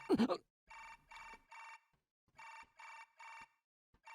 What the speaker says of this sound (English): Suddenly, I heard the sound of a ringing phone.